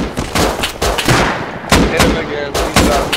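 Gunfire in the survival game Rust, loud close bursts of rapid shots in several clusters with brief gaps between them, while players talk over the shooting.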